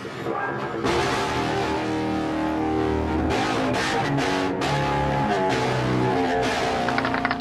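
A heavily distorted Rickenbacker bass played through an electric guitar amp, loud and continuous, thick and growling, with notes shifting in a steady stream and no pauses.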